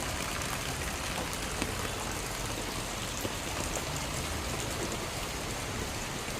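Heavy monsoon rain pours steadily over a farm with waterlogged areca plantations, a dense continuous wash of rainfall with faint scattered drop impacts and no voices.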